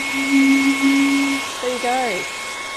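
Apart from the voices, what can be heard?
hair dryer blowing over maple syrup bottle lid, musical note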